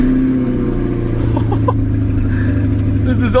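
A Chevrolet Corvette C8 engine runs close by with a loud, steady low rumble and a slight rise in revs near the end, with faint voices in the background.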